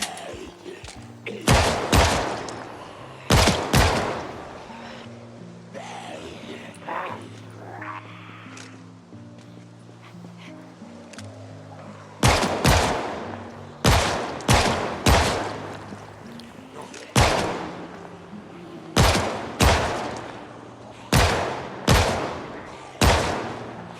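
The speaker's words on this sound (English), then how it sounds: "I could pull out the gun now and start shooting, start blasting, dude." Repeated gunshots from a firearm in the zombie survival game Project Zomboid, loud sharp blasts fired in two bursts with a quieter lull of game ambience between them.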